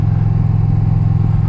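A 2020 Indian Challenger motorcycle engine runs at a steady idle, a close, loud, low throbbing rumble with a pulsing cylinder beat.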